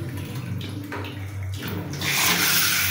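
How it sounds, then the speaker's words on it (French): Water runs from a shower tap in a home bathroom as a steady broadband hiss that grows louder and fuller partway through, with no one speaking. "Voilà, l'eau va sortir de cette manière"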